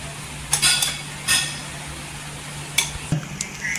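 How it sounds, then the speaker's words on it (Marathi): Semolina stirred in melted ghee in a pan over a low flame for rava ladoo, with a few clinking spoon scrapes against the pan over a quiet background hiss. "इथे रवा घ्यायचा, तुपात टाकायचा आणि स्लो गॅसवर छान असा परतून घ्यायचा।"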